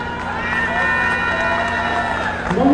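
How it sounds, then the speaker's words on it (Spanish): Audience applause and cheering fill a crowd at a queen presentation ceremony in Atlatlahucan, steady and dense throughout the few seconds, with a voice rising near the end. "Fuerte el aplauso, por favor."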